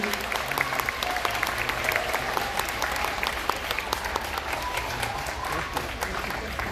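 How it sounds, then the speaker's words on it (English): Audience applause for kindergarten students at an elementary school awards ceremony in Moxee: a sustained, dense crowd of clapping hands filling the room at steady loudness, with faint voices mixed underneath. "let's give our Kinder Bridge and Kinder a round of applause."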